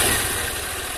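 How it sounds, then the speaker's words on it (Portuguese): Honda 160 motorcycle engine with 6,000 km, knocking on the day's first start, runs close and loud with a rough, steady idle over a brief moment. "ele para e bate"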